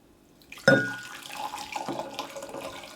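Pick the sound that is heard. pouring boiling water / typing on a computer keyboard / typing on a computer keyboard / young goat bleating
pouring boiling water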